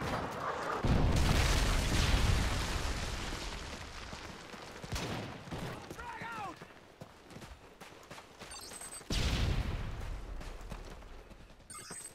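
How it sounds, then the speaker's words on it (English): A Predator missile strike in Modern Warfare 3 gameplay lands as heavy rumbling booms, with a second blast later and scattered gunfire and game effects in between. "Friendly Predator missile inbound"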